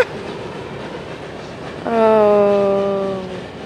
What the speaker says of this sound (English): I never seen a coal train on this line in a while.